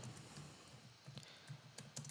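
Fingers type on a computer keyboard, entering a workflow name. Soft, irregular key clicks come in small bursts, faint and alone with no voices.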